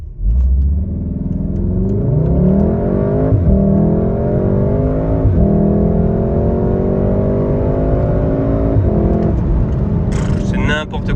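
A Golf 7R facelift accelerates hard in sport mode without launch control. The engine note climbs loudly and close, then drops sharply at three quick gear changes before rising again, ending in a brief burst near the finish.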